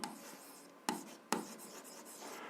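Pen writing an algebra answer by hand on paper, a soft continuous scratching close up, broken by two sharp taps.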